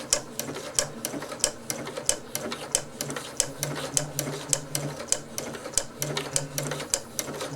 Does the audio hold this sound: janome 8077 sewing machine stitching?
yes